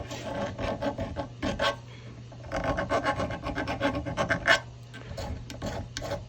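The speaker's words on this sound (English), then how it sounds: "So what I'm going to do is a little bit of work to clean up the screw heads themselves, where there were burrs from the screwdriver." A file rasps burrs off metal screw heads from a wooden chair under repair, in two bursts of quick, close, rhythmic back-and-forth strokes with brief pauses over a low steady hum.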